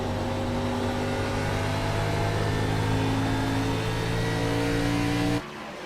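A sim racing game's race car engine at Darlington drones at a steady high pitch, loud and close, then cuts off sharply near the end, leaving a quieter background.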